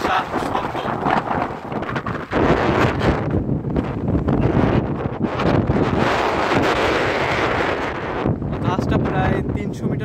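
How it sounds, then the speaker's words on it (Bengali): Strong wind roars steadily across the front deck of a roughly 300-metre ship at sea, loud and buffeting, with gusty rumble and no speech. "বাতাস এবং শব্দ সামনের দিকে অনেক বেশি।"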